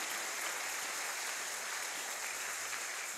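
A church congregation applauds steadily during a French-language service, a dense, even wash of clapping that holds at the same level throughout, somewhat distant and without speech.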